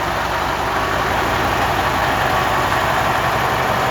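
A 1978 Peterbilt 352H truck with a 3408 Cat engine idles steadily at close range, a loud, continuous low rumble with no voices over it.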